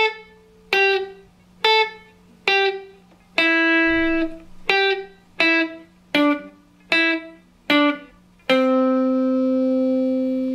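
A guitar plays a beginner soloing run of pattern sequences, about ten cleanly picked single notes in a steady rhythm, then one final note rings out long and clear, close and alone.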